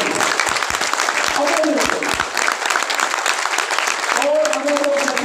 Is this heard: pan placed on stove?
no